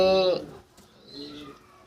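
Pigeons at a farm where birds are sold, giving a clear coo at the start followed by softer, fainter cooing and calls.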